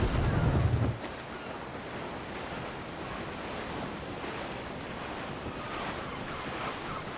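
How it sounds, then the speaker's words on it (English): Strong wind and rolling ocean waves at sea in Assassin's Creed IV Black Flag, a steady loud roar of surf and gusts with a heavier burst at the start and no voices. "There's a strong wind now."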